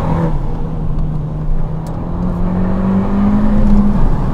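An Abarth 595 Esseesse engine revs and accelerates with a steady, rising drone that climbs in pitch toward the end, close up and loud, with no talking.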